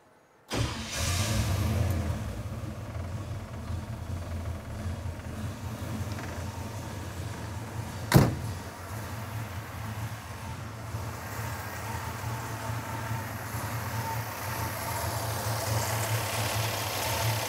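A small block Chevy throttle body injection V8 in a restomodded 1950 Chevrolet stretch cab truck starts up and settles into a steady, deep idle, with one sharp click partway through and no talk.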